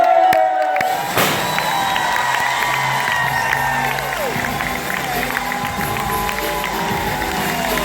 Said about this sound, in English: Big round of applause. Stand up, get loud about this.